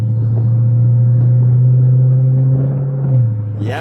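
A Chrysler 300C SRT8 V8 engine revs loud and close, holding a deep, steady rumble for a few seconds before dropping off, with no talk over it.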